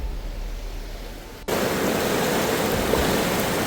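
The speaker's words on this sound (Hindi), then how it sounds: "आप देख ही रहे हैं कितना तेज़ गंगा जल यहाँ पर बह रहा है।" The swollen Ganges rushes fast through Rishikesh after heavy rain. A loud, dense, continuous roar of torrential water jumps up sharply after a brief quieter stretch and carries on unbroken, with no talking.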